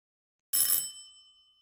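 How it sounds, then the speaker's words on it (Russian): A single bright doorbell chime rings in the horror game Silent Hill 4: The Room, striking sharply after a moment of silence and then ringing out and fading over about a second. "Это звонок в дверь."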